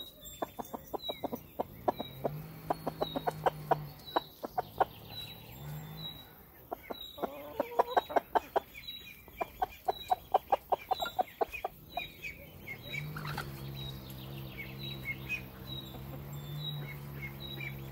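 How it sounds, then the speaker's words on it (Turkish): Chickens cluck repeatedly close by at a home, with a rooster-like call and scattered bird chirps, the clucking rising and falling over about eighteen seconds with no one speaking. "O ne tavukları"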